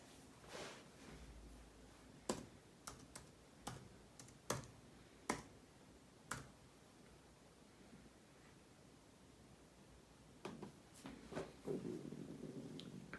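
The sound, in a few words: typing a password on a computer keyboard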